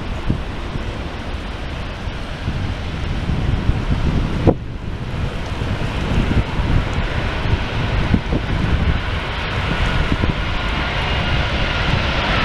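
Wide-body jet engines roar steadily at Los Angeles LAX airport, a loud continuous rumble with wind buffeting the microphone, and a brief sharp disturbance midway.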